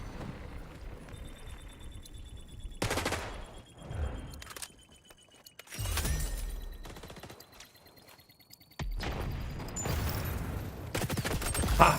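P90 submachine gun fire during an XDefiant flag match: sustained rapid bursts and loud volleys that break off and resume, with brief quieter stretches of game sound between them.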